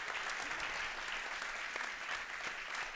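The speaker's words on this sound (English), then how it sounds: "let's give Professor Allen another round of applause" Audience applause after a lecture on Martin Luther King Jr., a dense, steady burst of many people clapping at moderate volume throughout.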